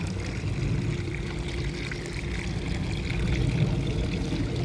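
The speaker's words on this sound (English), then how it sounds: "a fountain that's running." A running garden fountain splashes steadily beside a house with shrubs and a Japanese maple, its watery patter continuous and fairly close, with a faint low hum underneath throughout.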